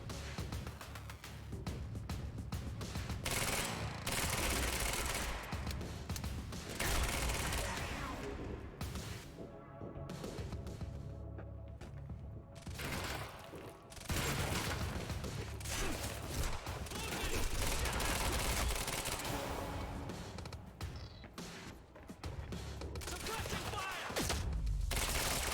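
Heavy gunfire in the Quantum Break video game: dense bursts of automatic fire and crashing impacts come in long loud stretches with brief quieter gaps, close and continuous.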